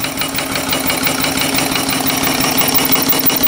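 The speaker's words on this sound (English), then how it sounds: "This one has an engine on it." A small live steam engine running on a homemade boiler, chugging steadily with a fast, even mechanical knocking rhythm, loud and close, with no talking.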